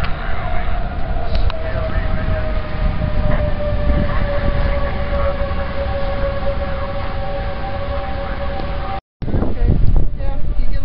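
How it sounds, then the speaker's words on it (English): Civil defense tornado warning sirens in Lincoln, Nebraska, a steady distant wail held continuously under wind and rumbling background noise, briefly cutting out near the end. "it's the third time they've blown the sirens."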